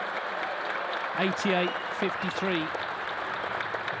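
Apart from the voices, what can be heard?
crowd cheering and applauding at the Tempodrome snooker match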